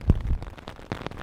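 Heavy rain during a storm in the northern Sahara desert, a rough broadband wash of drops with low rumbling gusts and a few sharper bursts, fairly close and steady over a short stretch.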